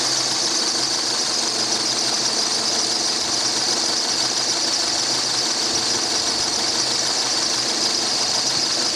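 A 2007 Peugeot 207 1.4 petrol 16-valve engine idles while warming up after a blown head gasket, giving a steady close mechanical drone with a constant hiss and no voices.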